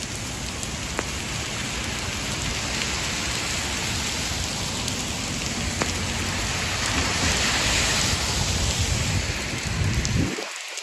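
Steady heavy rain pours on the streets of Manhattan, New York City, during a New Year's Day rainstorm, a dense continuous hiss of drops on pavement that stays loud and unbroken before cutting out abruptly at the end.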